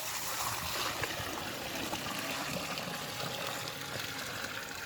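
Water pours steadily into a container being filled on an outdoor plot, a continuous broadband rushing splash lasting throughout without talk.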